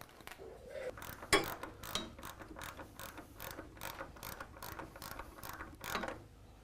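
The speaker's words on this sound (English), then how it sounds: "Torque wrench." Torque wrench ratcheting while tightening muffler fasteners on a 2010 Harley Davidson FLTRX, a rapid run of close metallic clicks in quick repeated strokes, loud and alone.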